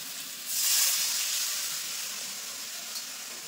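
Water poured into a pan of spiced potatoes browned in masala for a fish curry gives a sudden steady hiss that swells, then slowly eases off, close and alone.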